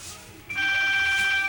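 Telephone ringing in a room during a record-browsing session, a bright electronic ring that starts suddenly and carries on steadily for about a second, close and fairly loud.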